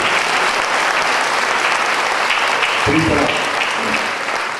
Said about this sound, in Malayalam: കൈയടിച്ച് കർത്താവിനെ സ്തുതിക്കുക